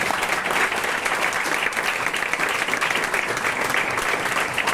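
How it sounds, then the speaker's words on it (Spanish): Sustained applause from a church congregation, a dense steady patter of many hands clapping at close range for the whole stretch with no pauses. "Aplaudo al Señor, hermano."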